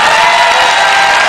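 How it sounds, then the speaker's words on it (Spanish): A studio audience bursts into loud, dense applause with cheering and whoops, close and sustained through the whole short moment. "quien quiera aplaudir, que aplauda"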